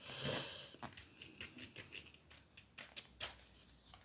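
A worn nail file rubbing under a heated nail sticker, a faint close scratching in quick short strokes, roughly a dozen rhythmic rasps.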